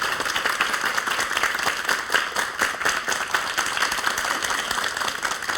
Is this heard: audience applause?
yes